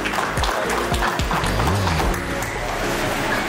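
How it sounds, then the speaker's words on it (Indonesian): Crowd applause at a ceremonial reception welcoming the Pangdam XVIII Kasuari military commander in Wondama: a dense, steady wash of clapping throughout, with voices and tonal sounds mixed in during the first two seconds. "Mari kita beri tepuk tangan yang mulia."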